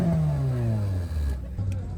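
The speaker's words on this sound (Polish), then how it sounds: "On się tu kręci do czerwonego, do czerwonego się kręci, nie? Temperatura silnika cały czas wzrasta." A Peugeot car engine at a Halloween car meet revs up toward the redline, a loud rising and falling whine with strong harmonics sweeping across the clip, close by, with voices talking over it.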